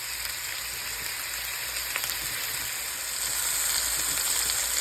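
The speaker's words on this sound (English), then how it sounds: "we're just going to sear them on both sides for about 3 to 4 minutes" Beef ribs sear in a hot pan with a steady, dense sizzle that holds close and loud throughout and swells slightly near the end, with no voices.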